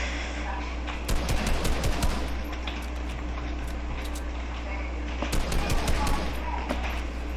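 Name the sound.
gunfire in a video game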